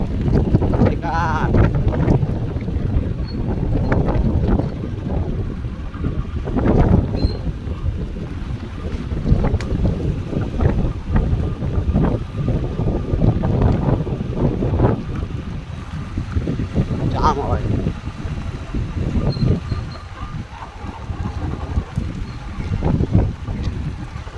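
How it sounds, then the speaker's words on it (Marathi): Sudden strong storm wind ahead of the first monsoon rain roars and buffets steadily outdoors near mango trees, loud continuous gusting with rumbling microphone wind noise throughout. "ही आता तुफान आला एकदम"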